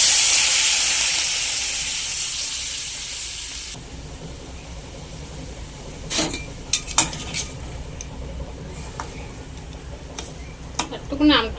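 Boiled mango chutney bubbles gently with a little water in a pan, a soft steady simmer broken by scattered clinks and scrapes of utensils against the pan, fairly close and quiet.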